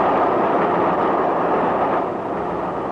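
Steady, loud rumble of a train running on the rails, used as a sound effect in a radio drama set aboard a non-stop train to Victoria near Brighton; a continuous wash of noise with no talk.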